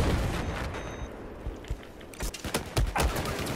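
Gunfire in Battlefield 4 during a team deathmatch on Lancang Dam, heard as a burst of sharp shots clustered near the end of the clip, loud and close over background noise.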